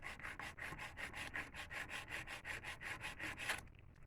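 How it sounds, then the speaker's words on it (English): Nail file rasps rhythmically across an acrylic nail being shaped square, with about fifteen quick, even back-and-forth strokes close up, then stopping. "you want to make sure when you're filing the nail that you're filing it to the natural nail"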